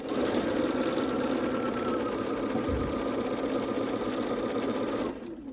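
A sewing machine stitches quilting fabric with a steady, close whirring hum that runs unbroken for about five seconds, then stops abruptly.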